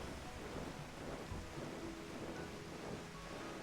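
Goblin steam machinery in Final Fantasy XIV gives a steady broad hiss with a low, thunder-like rumble underneath, continuous and even throughout with no voices.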